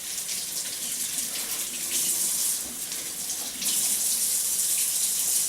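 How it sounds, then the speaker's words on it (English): Tap water runs steadily over tomatoes being washed, a close, continuous hissing splash that gets a little louder partway through, with no talking. "first you have to wash your tomatoes to make sure there's no bacteria on them"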